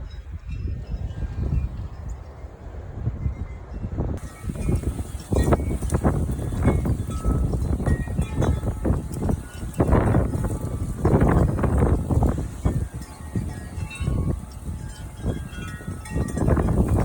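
Gusty wind storm roaring through a stand of trees, a dense, surging broadband rush that swells and eases in waves like distant surf, loud and continuous throughout with no clear speech.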